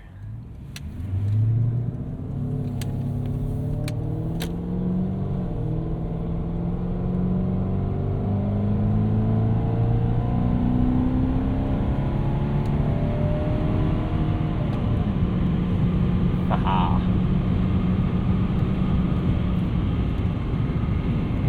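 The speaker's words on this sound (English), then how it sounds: "Just because I want to hear my V8 motor." A 1998 Lexus GS 400 V8 accelerates hard on the road, its loud, steady engine note climbing in pitch through each gear with no talking.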